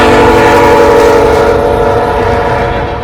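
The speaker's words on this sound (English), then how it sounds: "the freight train came by." A freight train passing close by, its loud horn blaring in a long sustained chord over the heavy rumble of railcars, easing off slightly toward the end.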